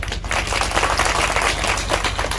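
Dense, continuous applause from a crowd at a Kori and Jatav community gathering, loud and steady throughout with no pause.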